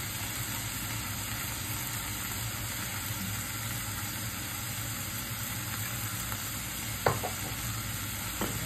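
Egg and oyster sauce frying with spinach in a pan: a steady, close sizzle that holds evenly throughout, with a couple of brief utensil clicks near the end.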